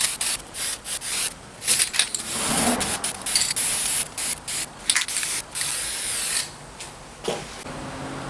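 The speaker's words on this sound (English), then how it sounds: "Time to put some primer on." Spray primer being applied to a truck in rust-removal bodywork: repeated close hissing bursts of aerosol, some long and some short, separated by brief pauses, with no talking.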